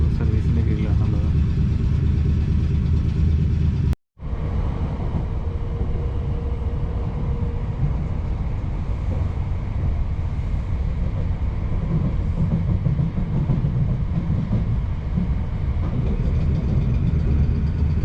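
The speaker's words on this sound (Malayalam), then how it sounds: "ഇവിടെ എല്ലാം ഓടിക്കൊണ്ടിരിക്കുന്ന മേഴ്സി റെയിൽ എന്ന് പറയുന്ന ട്രെയിനാണ്." A Merseyrail train near Liverpool runs steadily with a loud, continuous low rumble and rolling wheel noise, broken by a brief cut early on, while a voice talks over it.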